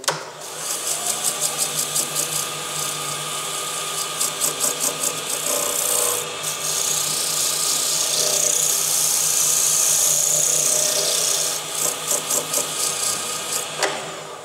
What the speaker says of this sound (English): I don't want to waste your time sanding